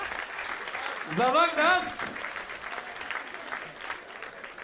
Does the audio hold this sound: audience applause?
yes